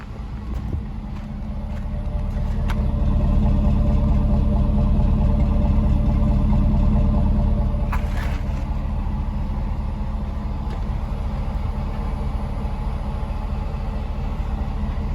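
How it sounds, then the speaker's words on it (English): A GMC Yukon Denali's 6.0-litre V8 engine idles close by, a steady deep rumble with a faint continuous whine riding on top. "these things have a really nice whine to them. They go like when they're idling."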